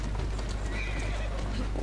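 In the Assassin's Creed Syndicate video game, a horse pulling a carriage lets out a loud, clear whinny with hoof clatter on a busy street, heard on its own.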